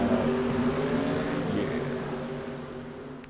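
Stock-car engines rumble at the start of a Cup Series race at North Wilksboro in a racing video game, a steady droning roar of many engines that fades slightly over a few seconds, with no voices.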